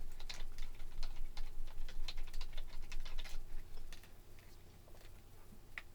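Quick, light clicks of typing on a computer keyboard patter in an irregular run, fairly close but soft, and they thin out toward the end with no talking.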